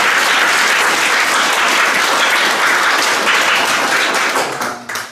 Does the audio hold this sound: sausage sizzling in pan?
no